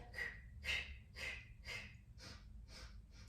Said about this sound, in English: You could be breathing staccato